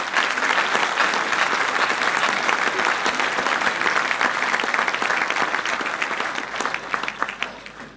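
Audience applause at a New Year's greetings ceremony, dense sustained clapping from a large crowd filling the room, loud and continuous, tapering slightly near the end.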